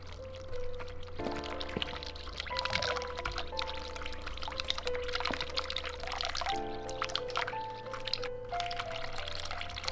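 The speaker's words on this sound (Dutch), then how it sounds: "Ik ga dat water afzetten" Tap water runs in a steady, moderately loud pour inside the horror adventure game The Cat Lady, with sustained electronic musical tones and a low drone playing over it throughout, and no talking.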